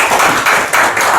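Audience applause at a filial piety academic forum in Jeollabuk-do, a short burst of dense, steady clapping from a seated crowd that swells briefly and stays even throughout.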